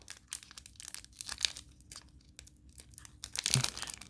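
A glued trading card booster pack is torn open close up, giving a run of crinkly foil tearing and rustling. Short irregular rips build to a louder, sharper tear near the end, with no talking.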